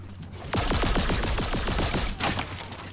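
Gunfire in Fortnite: a rapid run of about a dozen sharp cracks fired in quick succession, each ringing off with a falling tail, then a brief pause and a final burst, loud and close.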